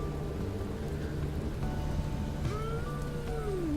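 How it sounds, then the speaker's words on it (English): Steady rain in the video game Pyre hisses throughout as a constant, fairly loud wash, with faint tonal game sounds rising over it. "I do like the rain. It's kind of loud in here."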